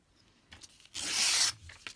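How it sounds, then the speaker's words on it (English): Paper being torn by hand during a craft project, a short quiet rustle followed by one loud, sustained rip of about half a second, heard close and alone. "So I think I'm going to be terrible and tear down there."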